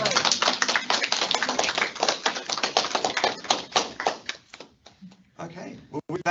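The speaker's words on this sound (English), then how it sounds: "Okay, round of applause. Excellent." A ceremony audience breaks into dense, loud applause that thins to scattered claps and fades, with a voice speaking near the end.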